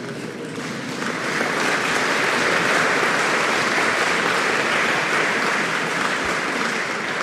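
Audience applause at a panel discussion on European security and democracy: a large crowd's clapping swells within the first second into a dense, sustained roar that holds steady to the end.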